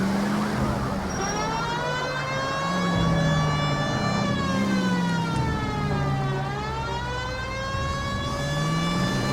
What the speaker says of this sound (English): The siren might put people out of your way